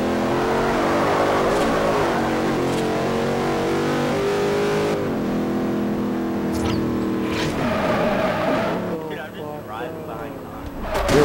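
Car engine in the Forza Horizon racing game revving and shifting pitch while driving, loud and continuous, with people talking over it.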